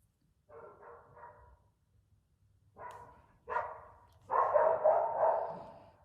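A dog barks in a few short bursts, then a longer, louder run of barks, fairly close in a quiet room with no talking.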